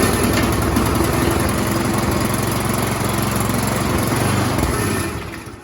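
A snow blower engine runs on choke on a cold day, a loud steady droning rumble held close up for several seconds before it starts to fade away at the end.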